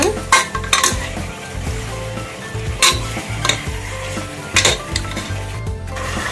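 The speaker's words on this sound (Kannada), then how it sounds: "ಅದನ್ನು ಚೆನ್ನಾಗಿ ಫ್ರೈ ಮಾಡ್ಕೊಳ್ಳಿ" Chicken frying in a pan for chicken gravy, a spoon stirring it with repeated scraping and clanks against the metal over a steady close sizzle, with no talking.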